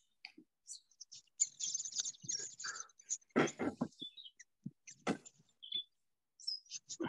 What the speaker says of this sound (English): very beautiful, large-footed finch